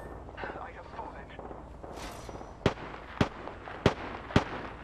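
Four sharp gunshots crack out at steady intervals in an online PS4 shooter match, loud and close over a murky rumbling game backdrop, after a stretch of muffled combat noise.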